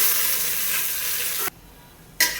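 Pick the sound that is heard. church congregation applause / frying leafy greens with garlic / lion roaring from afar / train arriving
frying leafy greens with garlic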